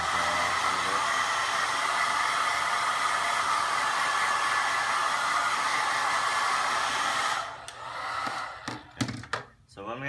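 A hair dryer blows steadily and loudly on a shoe sole for about seven seconds, a constant broadband whoosh, then cuts off, followed by a few handling knocks and thumps.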